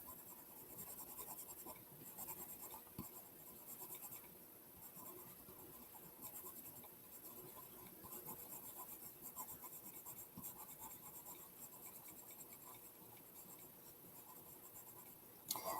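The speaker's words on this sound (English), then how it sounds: "I need to sharpen this pencil." A graphite pencil being sharpened, a steady faint scraping and rasping that runs on without a break, close by and quiet with no talk.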